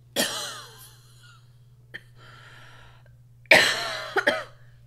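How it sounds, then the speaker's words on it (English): Harsh coughing from a player during a World of Warcraft Arathi Basin match, a burst of coughs near the start, a small throat sound midway, then another rough cough fit near the end over a steady low hum. "I don't know what's making me cough so harshly"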